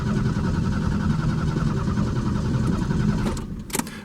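A 1989 Mustang engine cranks steadily for about three seconds on its first start in eight years, a loud rhythmic churning that stops abruptly, followed by a couple of short mechanical clicks.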